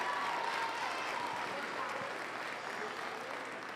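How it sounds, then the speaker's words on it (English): Steady audience applause fills a youth fair livestock arena after placings in market hog showmanship, a dense wash of clapping held at even strength throughout and easing slightly at the end. "Give her a round of applause."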